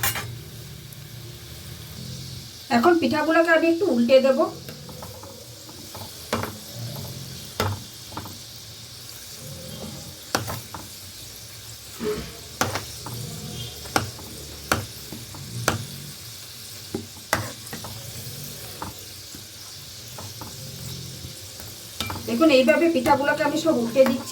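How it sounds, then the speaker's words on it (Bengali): Sweet potato pitha (rosbora) fry in oil, four at a time, with a low, steady sizzle. Scattered sharp taps and scrapes come as the pieces are turned, and brief louder bursts appear near the start and the end. "আমি চারটে চারটে করে পিঠা ভাজছি এখন এগুলোকে এইভাবে উল্টে পাল্টে লাল লাল করে ভাজবো"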